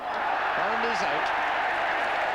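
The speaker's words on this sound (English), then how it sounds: "Boycott struck, the crowd go delirious" A crowd at a 1979 World Cup cricket match between Australia and England roars steadily after a wicket, a broad distant wash of cheering and applause with a commentator's voice over it.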